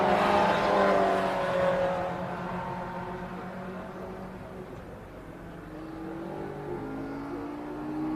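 A race car laps the Oulton Park circuit during an MGCC Cockshoot Cup race, its engine note rising and falling as it passes, fairly distant under steady track ambience.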